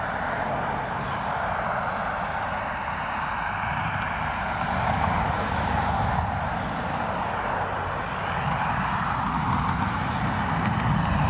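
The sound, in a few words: British Airways Embraer aircraft at Dublin Airport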